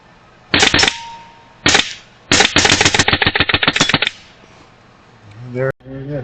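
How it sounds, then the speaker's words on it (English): A Western Airguns Mordax Venom airgun fires loud, close bursts on full auto and runs through a whole magazine. Short volleys give way to a long rapid string, and a brief voice follows. "I don't think I had it all the way in full auto, but we're going to run this whole mag through."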